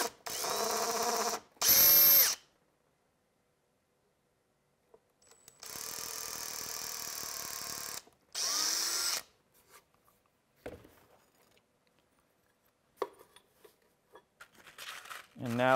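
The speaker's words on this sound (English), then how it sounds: "Then we should be able to drill" A power drill whirs in several bursts, a couple of seconds each, separated by quiet pauses, close to the microphone with faint handling noises between, drilling holes to install a VRS 16 ballast weight.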